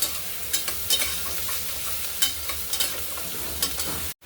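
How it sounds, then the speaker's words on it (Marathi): Chopped onion frying in a pan with ginger-garlic paste, a steady bright sizzle broken by repeated scraping stirs of a spoon, close and fairly loud, ending with a brief cut. "कांदा आपल्याला सोनेरी रंगावर परतून घ्यायचा आहे।"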